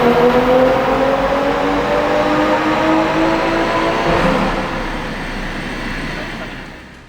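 A BMW M340i with a B58 engine runs on a dyno, droning loudly as it holds high revs in a steady pull with rising tonal harmonics, then fading down as the run eases off at the end.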